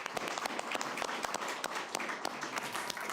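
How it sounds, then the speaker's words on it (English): Attendees at a City of Oldsmar council meeting give a round of applause, distinct individual claps from a modest group, fairly faint and a little uneven, without talk over it. "Give another round of applause."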